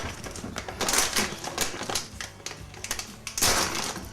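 Crinkly plastic rustling and crunching as a Ziploc bag of frozen raspberries is handled, close and loud, with bursts of crackle and the icy clatter of berries shifting inside.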